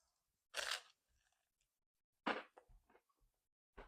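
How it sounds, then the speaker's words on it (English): Sourdough toast with butter and low-sugar Bon Maman strawberry jam is bitten and chewed close up, two loud crunches followed by softer chewing in quiet. "So the sourdough toast lets me crunch and chew."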